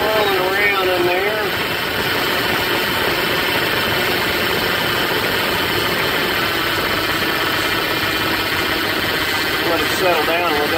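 A Dodge Ram 1500 with a leaking steering rack, just fitted with a new rack and pinion, idling steadily after being cranked, a continuous mid-low engine drone throughout with a brief whirring sweep near the start and end.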